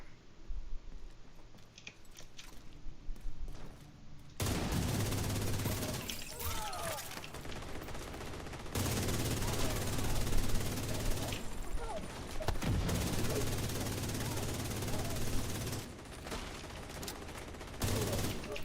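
Weapon hip-fire in The Division 2, with several long sustained bursts of loud rapid gunfire from a circuit-breaker style gun, separated by short gaps, while a voice talks at times over the shooting.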